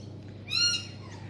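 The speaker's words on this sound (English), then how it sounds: "There's the birds outside chirping away." Single bird call outdoors in a backyard on a Saturday morning, a bright harmonic squawk lasting about a quarter second, moderately near and heard alone over a steady low hum.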